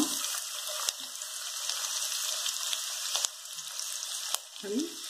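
Onion fries in hot oil for a gravy, making a steady hissing sizzle with a few sharp pops and crackles, close but fairly faint, with no one speaking.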